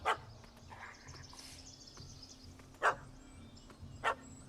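A dog barks in The Witcher 3 video game, two sharp yaps some distance off with a pause between them, over a quiet game ambience with faint bird chirps.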